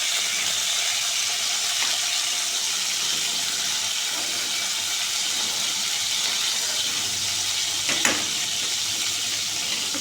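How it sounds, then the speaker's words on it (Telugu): Brinjal pieces fry in oil for a masala vankaya curry, giving a steady broadband sizzle and hiss that holds evenly throughout, with one brief sharper crackle near the end. "ఇట్లా ఆయిల్లో ఫ్రై చేసుకోవడం వల్ల వంకాయ చేదు రాదు, బాగుంటుంది మనకు."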